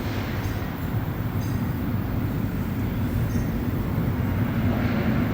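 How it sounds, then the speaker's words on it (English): A Montreal metro train pulls into Côte-Vertu station on the Orange Line, a loud, continuous low rumble with steady mechanical roar and faint high squeals, heard close up throughout without any talk. "There's one more train that's pulling in."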